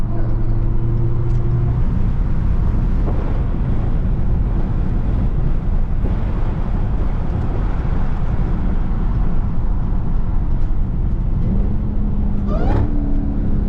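A Dodge Charger Hellcat in track mode roars steadily up close in heavy traffic, with rising and falling whines and revs as it downshifts, over constant road and wind rumble.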